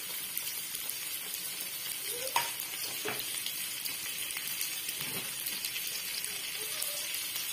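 Chopped onions fry in a pan with a soft continuous sizzle, broken by a few spoon scrapes and stirring knocks, with no talk.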